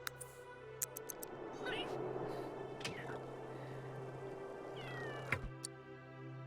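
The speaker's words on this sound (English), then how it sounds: "This is the cat telling us the story." A cat meows in the video game The Sims 3, with a few short, quiet mewing calls rising over a soft game background hum, along with clicks and faint speech.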